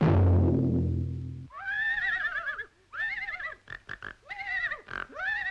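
A horse whinnies in several long, wavering neighs with short gaps between them, loud and close, after an opening burst of low rumbling noise.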